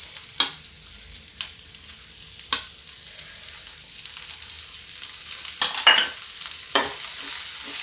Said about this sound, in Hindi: प्याज को हम भून लेते हैं।